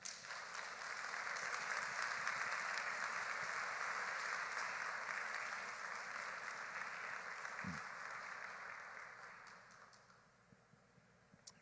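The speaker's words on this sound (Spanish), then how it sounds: "denle un aplauso al Señor" Sustained applause from a church congregation, an even, dense patter of many hands that holds steady for several seconds, then thins and fades out near the end.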